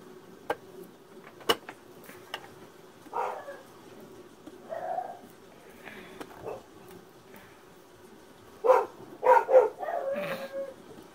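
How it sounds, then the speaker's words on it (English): Dogs bark indoors at some distance, a few scattered barks early and then a louder cluster of barks near the end, with sharp clicks and faint room noise between. "The dogs are coming."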